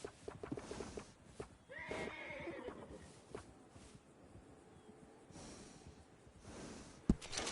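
A horse in Red Dead Redemption 2 whinnies and snorts while being groomed, with a rising neigh early on, heavy breaths and soft hoof clops nearby, all fairly quiet and close.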